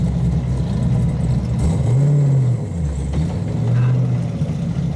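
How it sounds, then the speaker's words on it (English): A Genesis Coupe with a new McLeod twin-disc clutch revs under throttle, its engine note rising and falling in two swells over a steady idle-like drone, close and loud. "definitely have to give this car a good bit of throttle with this new clutch"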